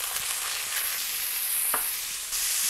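Burger patties sizzling in a hot pan just after being flipped, a steady close hiss of frying fat with faint stirring or scraping, no voices.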